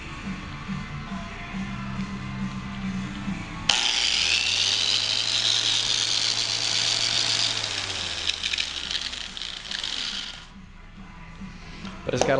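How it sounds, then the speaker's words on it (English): A large sisal polishing wheel spins on an angle grinder against a forged knife blade, a loud high whine starting abruptly and holding steady for several seconds before cutting off, with the motor's low hum beneath and speech around it. "what I'm using here is a Sissel wheel, just on the angle grinder"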